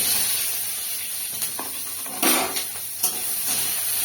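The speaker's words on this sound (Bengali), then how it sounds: "এবার এই আগে থেকে কেটে রাখা পেঁয়াজটা দিয়ে দেবো।" Chopped onion hits hot oil already holding cumin seeds, bay leaf and a chilli, making a continuous frying sizzle and hiss with a few louder splutters and stirring bursts. No one speaks.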